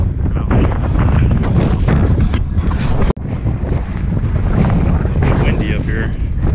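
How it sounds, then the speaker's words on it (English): Strong wind buffets the microphone on an exposed mountain trail in Big Bend National Park, a loud continuous roar with a brief cutout midway. "It's windy up here."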